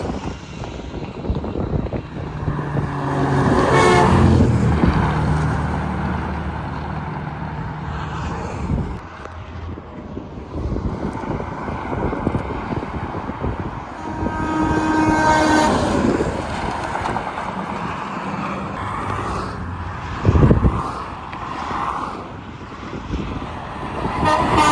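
Air horns from a Freightliner and a Peterbilt truck on the I-10 highway, long loud blasts over rumbling traffic, with a sustained horn near the start and more tooting later, no voices.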